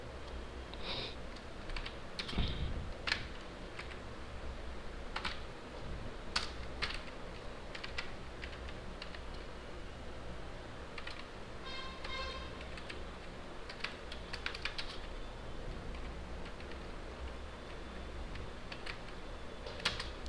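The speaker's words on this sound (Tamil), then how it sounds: "இப்போ வந்து ஜான் ஸ்மித் அப்படின்றத லெட்டர்ஸை நான் டைப்" Keys on a computer keyboard tap out letters for a visiting card design in CorelDRAW, a long run of light, uneven clicks close by against faint room hiss, with no talking.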